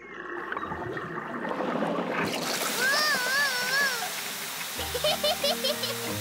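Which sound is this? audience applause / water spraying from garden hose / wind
water spraying from garden hose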